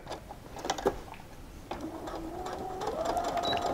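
Sewing machine back stitching through a heavy weighted blanket quilt, a few sharp ticks and clicks at first, then a soft, steadily building motor hum close by.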